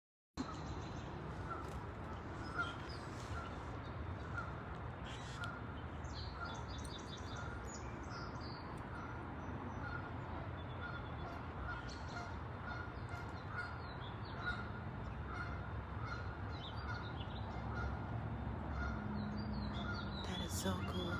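A flock of geese-like fowl honk and call continuously, a dense overlapping chorus of many birds close by and far off, with occasional voices mixed faintly underneath.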